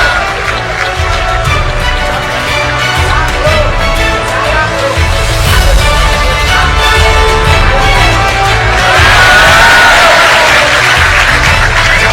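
An audience applauding and cheering at a session, sustained loud clapping with crowd noise and some music-like tones underneath, swelling near the end with a few whoops.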